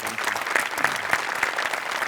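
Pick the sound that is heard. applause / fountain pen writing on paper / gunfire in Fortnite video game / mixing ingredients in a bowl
applause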